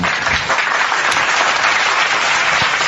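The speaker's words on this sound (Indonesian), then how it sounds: "Tepuk tangan." Audience applause at an interfaith debate in Indonesia, a loud dense burst of clapping that fills the whole moment without any talk.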